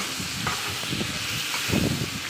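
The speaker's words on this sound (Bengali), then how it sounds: "পেঁয়াজ, মরিচ ভালো করে সিদ্ধ করে নিচ্ছে, পরে চিংড়ি মাছ দিয়ে নাড়াচাড়া দিচ্ছে" Onion, chili and shrimp sizzle and get stirred in hot oil in a pan, a steady hiss with soft scraping stir strokes at irregular intervals, close and without talk.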